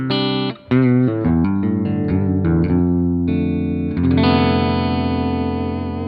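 Electric guitar played through a Tonex One on a high-gain amp setting with reverb: distorted, sustained notes and a short run of picked phrases ringing into a held chord, close and loud without talk.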